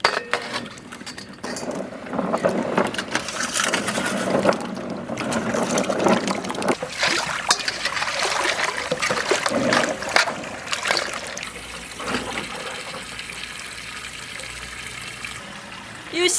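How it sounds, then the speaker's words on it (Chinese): Pickled Jerusalem artichokes, soaked overnight, are rinsed and stirred in a basin of water, giving continuous close splashing and trickling with occasional clinks of the tubers, loud throughout and easing slightly toward the end. "又洗了几遍，洗净了，现在捞出来控一下水分。"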